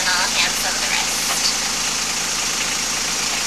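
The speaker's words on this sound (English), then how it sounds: "We also have the engine running" The engine of a small sailboat runs steadily as a constant low droning hum, loud and close throughout the clip.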